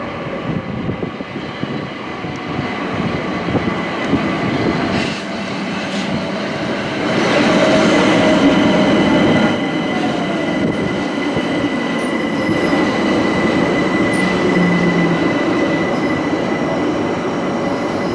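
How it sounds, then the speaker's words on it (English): Train pulling into Highbury and Islington station in London, a continuous loud rumble of rolling wagons with faint wheel squeal, growing louder midway as it arrives, with no talk. "my Highbury and Islington train arrives"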